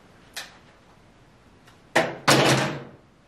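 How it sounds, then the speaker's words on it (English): A hotel room door in an old hotel swinging shut: a faint knock first, then two sharp close thuds in quick succession, the second a heavy slam with a short ringing tail, no talk. "How did the door close?"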